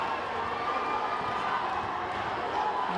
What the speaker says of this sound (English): And the crowd really trying to get behind the Botswana players.